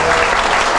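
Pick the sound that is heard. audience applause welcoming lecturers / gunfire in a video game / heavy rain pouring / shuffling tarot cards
audience applause welcoming lecturers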